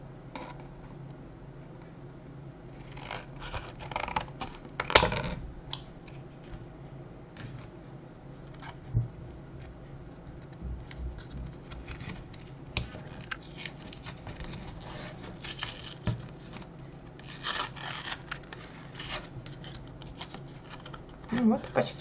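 Packaging of a Samsung 64 GB microSDXC memory card being opened by hand, with close, soft crinkling, tearing and plastic clicks scattered over about twenty seconds, one sharper snap early on.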